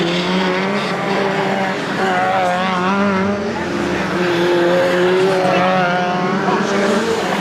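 Race cars lapping a raceway track, engines droning loud and continuous with rising and falling revs and pitch as several cars pass close by.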